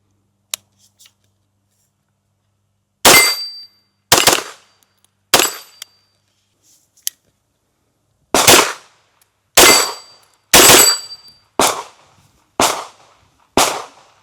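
A Springfield Kuna pistol-caliber carbine with roller-delayed blowback fires nine sharp, loud shots, spaced irregularly with a few quicker pairs, each echoing briefly with silence between.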